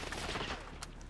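Video game gunfire from a sniper fight comes as a dense, muffled rattle of shots filling the brief moment, fairly close.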